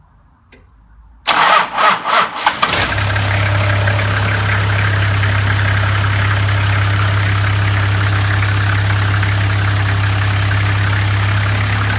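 Toyota HZJ75 Troopy diesel engine cranking with a few uneven turns, catching and settling into a loud, steady idle.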